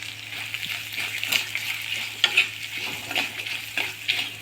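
Green chilies sautéing in a hot pan with turmeric, a steady close sizzle broken by light scraping stirs of a spoon, spaced irregularly over a low constant hum.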